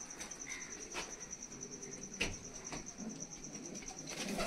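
Malwai pigeons coo softly in a quiet setting, low repeated calls mixed with faint chirps and a steady high insect whine, with a few sharp clicks and knocks scattered through.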